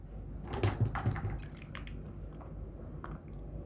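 Garden tomatoes are washed by hand in water, giving close, soft splashes, drips and wet squishing in a few irregular bursts with no talking over them.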